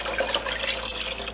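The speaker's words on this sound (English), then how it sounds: "Now I'm going to get 4 cups of water." Four cups of water for canning tomato beans run from a tap into a measuring container, a close, steady rush and splash with small fluctuations for over a second and no talking.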